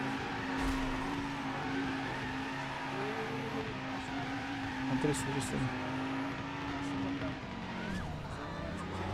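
Sports car engine in the racing game Driver San Francisco, a continuous steady drone with shifting pitch as the car is steered around, with someone talking over it throughout.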